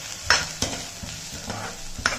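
A spoon scrapes and stirs through chopped vegetables in a bowl, with four or five distinct sweeping strokes in a quick, even rhythm.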